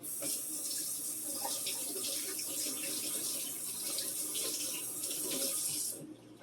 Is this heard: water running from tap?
yes